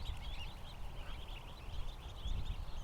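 Ducks and geese, including African geese, call in a steady mix of quacks and honks, fairly close and continuous, with low rumbling background noise underneath and no talking.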